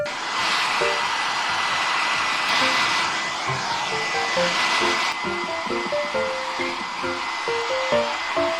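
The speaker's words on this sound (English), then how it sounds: "what I'm gonna try is I'm gonna dry my hair" A hair dryer blows steadily while drying freshly dyed hair. The whoosh is loud, close and continuous, with soft tonal bits over it.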